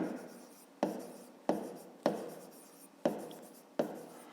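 A pen writes a math solution on paper in six evenly spaced strokes, each starting with a small tap and trailing into a soft scratch, close and quiet with no voices.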